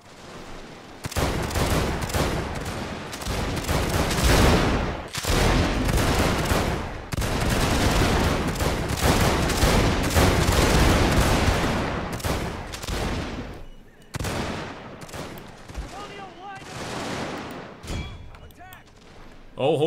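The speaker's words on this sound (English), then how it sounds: "But I'm going to keep on firing, especially at the enemy artillery, the wooden cannons." Musket volleys and artillery thunder across a Victoria Total War battlefield, with dense, loud gunfire rolling in long bursts broken by brief lulls.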